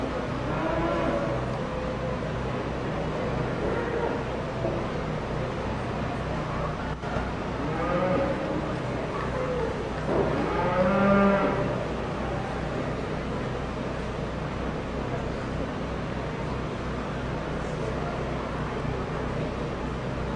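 A steer at a youth fair livestock show lowing in a long moo partway through, set against steady barn and crowd noise with a faint voice over a public address.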